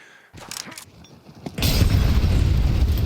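An HE grenade blast in Counter-Strike during a pro match, preceded by a few faint clicks and thuds, then a loud close boom that rolls into a sustained roaring rumble.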